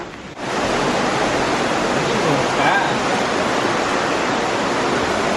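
A large waterfall in the Swiss mountains roars with a dense, steady wash of broadband noise, loud and close, holding constant without a break.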